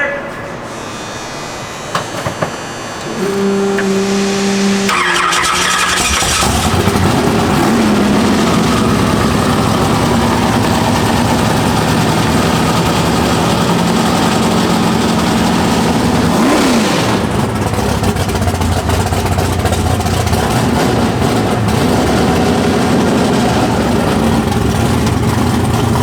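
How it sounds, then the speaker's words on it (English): A Chevrolet Camaro engine cranks and catches, then settles into a loud, steady idle with occasional revs, while people talk nearby. "Let's start Dave's car."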